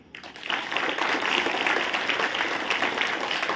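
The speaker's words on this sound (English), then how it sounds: "Clapping loudly." Audience applause at a children's school prize-giving starts quickly after a brief quiet moment, then holds steady as a dense wash of clapping from many hands.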